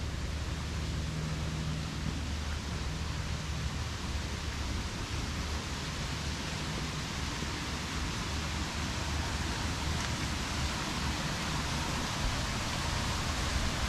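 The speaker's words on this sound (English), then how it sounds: "I believe there's a waterfall up here we can see." A garden waterfall pours steadily out of sight, a faint, even hiss of falling water without a break.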